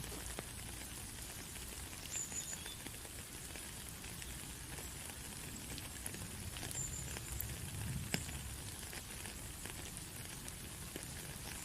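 Steady, soft rain patters on a surface with scattered drips, continuous and even throughout, no voices.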